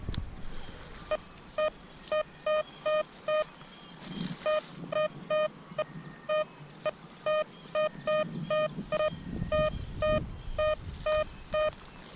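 Repeated short electronic beeps in quick bursts from a Blisstool V6 metal detector giving an iron signal, a two-tone chirp pattern over faint background rustle, with brief pauses between groups.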